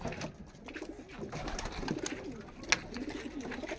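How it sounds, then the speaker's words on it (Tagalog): Pigeons coo steadily in a low, throaty chorus in Quiapo, Manila, several birds close by, with soft rustling and a brief sharp click partway through. "Ito na po yung mga kalapati namin guys."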